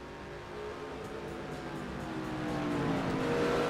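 Race trucks roar around the track in the NR2003 simulator during a USA Trucks East event at Bristol or Pocono, a steady engine drone from several vehicles that swells louder toward the end.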